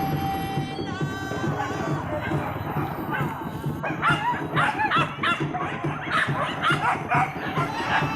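Several hunting dogs bark and yip repeatedly during a wild boar hunt, the barks coming in clustered bursts over a constant outdoor background with faint human voices mixed in.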